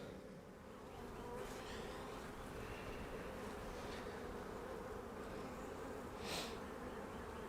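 Honey bees hum in an open, queenless hive during a honey super check, a steady, close, continuous buzz with a few individual bees droning past the microphone.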